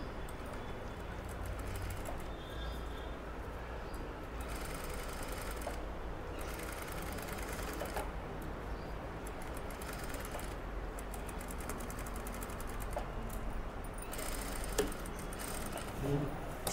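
Sewing machine running steadily while stitching a child's blouse, a continuous close whirring and rapid needle tapping with little pause.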